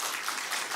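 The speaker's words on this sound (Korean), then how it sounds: "그분들께도 박수 한번 하겠습니다." Church congregation applauding during a service announcement, a dense, steady wash of many hands clapping, sustained and fairly loud throughout the brief moment.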